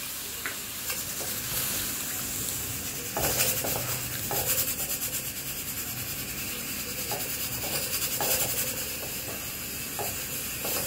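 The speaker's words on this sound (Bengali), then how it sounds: "একটু নাড়তে হবে যাতে লাম্পস না পড়ে যায় সুজির" Semolina cooked with milk and jaggery powder is stirred in a pan, giving a steady wet scraping and bubbling with louder spoon strokes at irregular intervals throughout, close by and with no talking.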